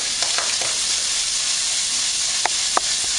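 About 250 grams of frozen vegetables sizzling in a hot pan, a loud, steady hissing sizzle with a few faint clicks and taps, close up, no talking.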